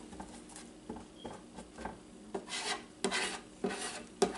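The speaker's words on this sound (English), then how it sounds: "just scrape it off a little bit with your little tool and you're good to go again." A small hand tool scrapes cooked-on residue off a cooking surface during turkey burger preparation, giving a series of short rasping scrapes that grow louder toward the end, close by with no talk.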